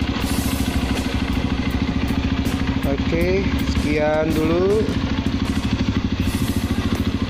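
A Honda CRF150L fitted with a Norifumi Rocket 4 exhaust idles close by, its steady, rapid thumping pulse running unbroken throughout while someone talks over it.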